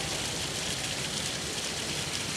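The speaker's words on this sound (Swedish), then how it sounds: "Det regnar." Steady rain hisses softly, an even wash of patter without pauses or voices.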